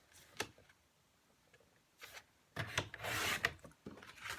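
A paper trimmer slices Early Espresso cardstock down the middle: faint handling rustles and taps, then a louder close scraping swish of the blade running along the sheet, with no talk.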